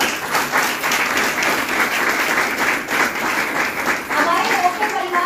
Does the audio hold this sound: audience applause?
yes